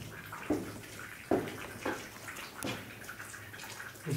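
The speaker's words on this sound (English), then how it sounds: "This is where there's water dripping." Water drips inside an abandoned convent building from 1896, a few separate plinks falling at irregular intervals over a faint, hollow room tone, with no voices.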